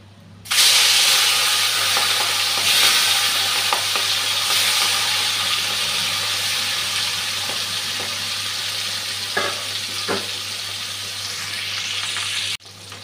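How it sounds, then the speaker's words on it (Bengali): Small pieces of katla fish rubbed with turmeric and salt frying in hot oil, a loud steady sizzle that starts abruptly and holds for several seconds with occasional pops, then cuts off. "তেলটা গরম হয়ে গেছে, মাছের ছোটো ছোটো পিসগুলো আমি ভেজে নিচ্ছি।"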